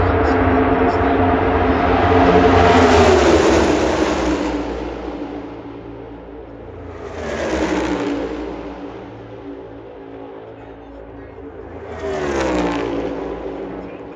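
Stock cars racing at the Yellawood 500 NASCAR event, engines roaring loudly as cars sweep past in three successive swelling passes, each rising and fading, with a race commentator talking over the noise.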